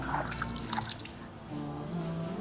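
Water poured and trickling over hands and forearms during ritual ablution washing, a soft continuous splash near the microphone with a brief pause, then a steadier flow, no talk.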